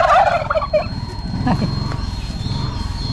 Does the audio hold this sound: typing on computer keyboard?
no